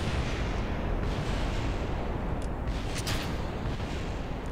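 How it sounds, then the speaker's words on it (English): A rocket explodes in the video game Kerbal Space Program, heard as a steady, dense rumbling roar with a few sharper crackling bursts near the end, moderately loud with no talking. "What was that explosion?"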